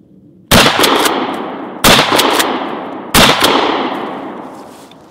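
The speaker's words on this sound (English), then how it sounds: "Now we're gonna shoot 3 rounds of double-out buckshot." A 12 gauge shotgun fires three rounds of double-aught buckshot outdoors: three loud, sharp blasts spaced roughly a second and a half apart, each followed by a long, fading echo, with no talk.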